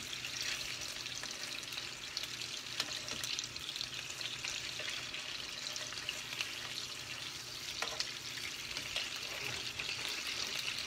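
Chicken tenders sear in a frying pan with a soft, continuous sizzle and scattered pops, steady and fairly quiet, with no talking over it.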